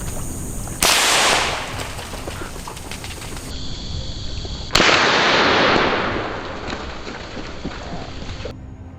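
Two rifle shots fired at wild hogs in a Florida swamp, loud sharp cracks a few seconds apart, each followed by a long echoing decay.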